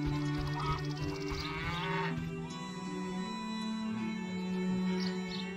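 A cow in The Witcher (the first game) gives several long, drawn-out moos in succession, fairly loud and close, over a steady low game background with no talk.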